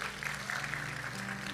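A church congregation applauds during a sermon, a soft, steady patter of many hands clapping at a distance, quiet and continuous across the moment.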